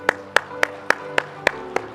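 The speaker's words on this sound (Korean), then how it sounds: "박수하겠습니다." A church congregation at a Sunday worship service claps together in a steady, even rhythm. About seven crisp, unison claps land roughly every quarter second over a faint background hum.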